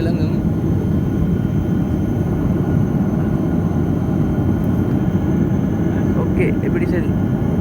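Steady, loud airplane cabin roar fills a flight from Taiwan to Narita, an even broadband rumble of engines and airflow with no pauses, while a voice talks underneath.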